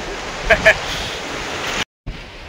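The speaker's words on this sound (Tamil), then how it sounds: "காற்று ஹெவி அடிக்குன்னு சொன்ன பார்த்தீங்களா, நீங்களே பாருங்கள் எந்த அளவுக்கு ஹெவி அடிக்குதுன்னுட்டு" Strong mountain wind roars in the Himalayas as a steady, loud broadband rush, with brief voices near the start and a short dropout toward the end.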